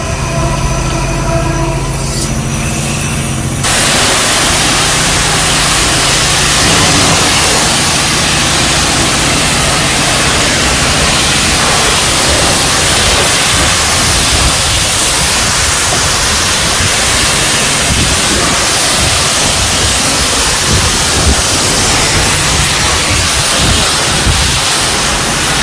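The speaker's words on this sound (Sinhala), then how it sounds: "ඔයාලට පේනවා ඇති ලොකු වතුර පාරක් එනවා." A high-pressure water jet at a self-serve car wash blasts as a loud, continuous roaring hiss, starting after a few seconds of machine hum and running steadily without a break.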